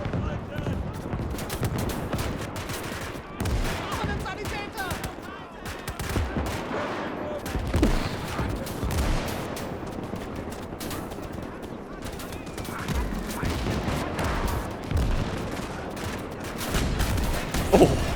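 Twin guns mounted on a small crab-like mech fire in a mech battle video game, dense rattling bursts repeating throughout amid explosions and battle noise, with someone talking over it.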